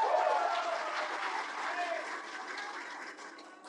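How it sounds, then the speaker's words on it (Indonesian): An audience at a political national-address speech in Indonesia claps for three people, a fairly soft, diffuse patter of applause that slowly fades toward the end. "Tepuk tangan untuk mereka bertiga."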